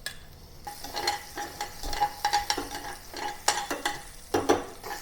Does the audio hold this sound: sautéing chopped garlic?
yes